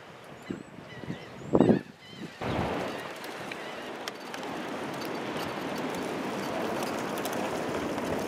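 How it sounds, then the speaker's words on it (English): Ducks honk in a brief loud burst near a backyard swimming pool, followed by a steady wash of water or wind noise; faint voices are present early on. "How about those ducks in the pool?"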